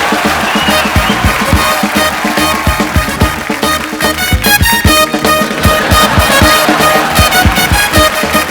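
A studio audience on The Kapil Sharma Show applauds to welcome actress Anushka Sharma, with steady, loud clapping running throughout under rhythmic music.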